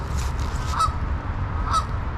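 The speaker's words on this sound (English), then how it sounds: "And this goose is telling his part of the story." Two loud goose honks about a second apart, heard over steady low outdoor noise at the Air Florida Flight 90 crash site on an icy river.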